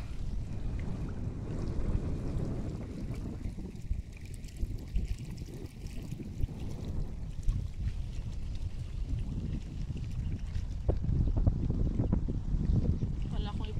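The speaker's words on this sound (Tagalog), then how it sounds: "Malakas pa yung hangin po pero wala nang ulan" Strong wind after a typhoon buffeting the microphone with a low, rumbling roar that gusts and swells over several seconds, water sounds faint underneath.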